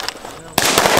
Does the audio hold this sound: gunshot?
yes